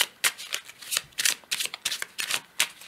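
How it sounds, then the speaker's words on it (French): Tarot cards being handled and drawn from a deck, a run of crisp papery flicks and shuffling snaps repeating in quick irregular bursts, close and fairly soft with no voices. "Je prends une carte du tarot pour compléter."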